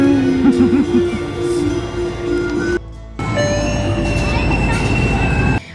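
An amusement park ride train rolls past with a steady rumble, squealing wheels and a brief break in the noise, fairly near and continuous.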